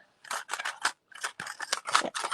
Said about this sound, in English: so let's die cut this one